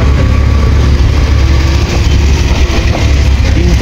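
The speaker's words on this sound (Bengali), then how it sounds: "3 চাকা বিশিষ্ট টুকটুকে করে আমরা এগিয়ে চলছি গন্তব্যের দিকে" Three-wheeled tuk-tuk engine droning loudly and steadily while riding along a road, a constant low rumble close by with road noise and no talking.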